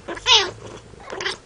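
Newborn kittens give two short, thin meows, the first louder and higher, the second fainter, close by with a quiet indoor room behind them.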